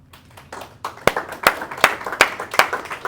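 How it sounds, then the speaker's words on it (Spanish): A church congregation applauds in praise, scattered claps building into a brisk, fairly close burst of clapping over a few seconds. "Dar un aplauso a Cristo."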